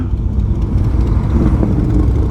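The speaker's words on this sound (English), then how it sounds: "And I'm doing it on a Road King." A Harley-Davidson Road King motorcycle laps the Mount Panorama circuit at Bathurst, its engine a loud, continuous low rumble and drone carried by wind.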